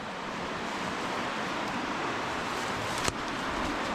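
Powerful river water rushing beneath an abandoned railway bridge in Scotland, a steady broad roar of churning flow with one brief knock near the end, with no voices.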